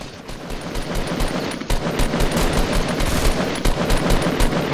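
Sustained automatic gunfire from Fortnite, loud and dense, a rapid continuous burst of shots with one short break partway through, no talking.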